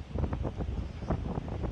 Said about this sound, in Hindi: अभी हवा बहुत जोर से चल रही है और बारिश भी हो रही है।